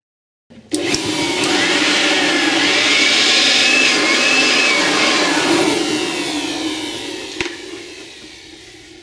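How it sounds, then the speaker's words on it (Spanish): Air blown through a notebook laptop fan to clean out dust, a sudden steady loud rushing whoosh that holds for several seconds, then gradually fades with a faint click near the end. "sosteniendo la hélice, podemos soplar un poquito y limpiarlo"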